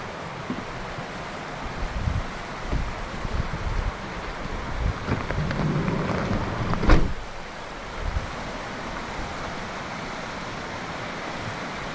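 The Deschutes River in the high desert of central Oregon, heard through an open van side door from a short walk away, flows as a steady broad rush with gentle swells in loudness and no talk.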